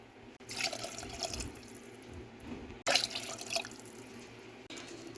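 Tap water running into a kitchen sink or pot while a cabbage and leftover-turkey holiday meal is cooked, a steady splashing stream in two short bursts, fairly quiet, with no talk.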